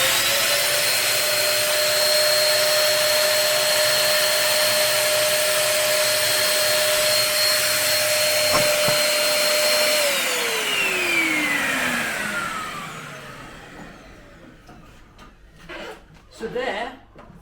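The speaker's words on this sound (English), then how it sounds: "when I fire the pump up," A vacuum pump's loud, steady motorized whine runs close by during a vacuum test, then winds down and fades out, leaving quieter background sounds and bubbling.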